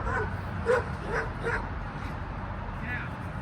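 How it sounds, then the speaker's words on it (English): A dog on a riverfront property in Cle Elum, Washington, giving a few short yips and barks that come in a loose rhythm from a little way off, with a person talking over them. "And speaking of dogs, there's one right there."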